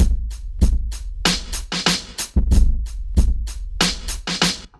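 A drum track processed with the Landr FX Beats plugin plays a steady groove of kicks, snares and bright hi-hats, sounding loud and dense with a fuller, more processed tone.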